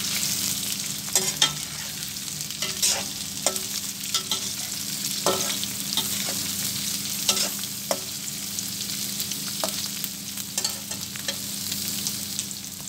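Four finely chopped onions fry in a pan with a continuous hiss of sizzling oil, punctuated by frequent irregular scraping strokes of a spatula stirring them.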